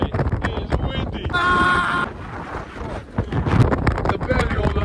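Strong wind buffets the microphone on the summit of Scafell Pike, a continuous low rumbling roar with gusty swells throughout, while people talk and pant nearby.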